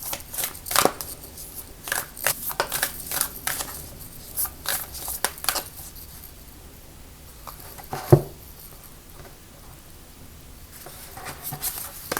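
Tarot cards being shuffled and handled: a string of crisp riffling and slapping bursts, clustered early on and fading into quieter rustles, with one sharp tap near the end, heard close with no voices.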